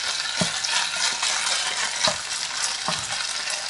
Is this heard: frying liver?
yes